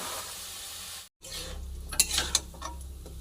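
Chickpeas are stirred into sizzling garlic paste, bay leaf, turmeric and chili powder in a hot pan, giving a steady close sizzle that briefly cuts out, then returns with scraping stirs and a couple of sharp utensil clinks.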